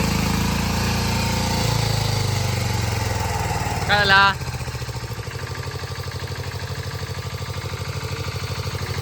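A tractor engine runs in a farm field in the Konkan during the rainy season, a steady, close mechanical chug lasting the whole time, with a brief spoken exchange near the middle.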